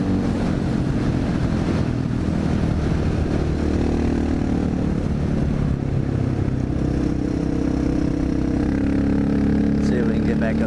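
Single-cylinder Honda XR650L dirt bike engine while riding on the road, a steady thumping drone with rising and falling revs, close and loud, with wind rush and someone talking over it.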